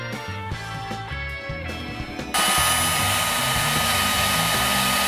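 A hot-air heat shrinking tool switches up on a printed wire sleeve: a quieter mechanical whir, then a sudden jump to a loud, steady blowing hiss that continues to the end.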